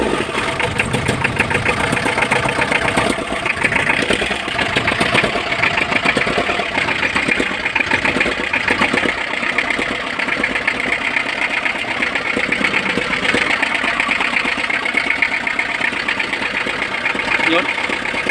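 Mitsubishi L300 with a 4D56 diesel engine, which has blowby, turning over and settling into a steady idle, a loud, rattling, continuous clatter heard close up throughout.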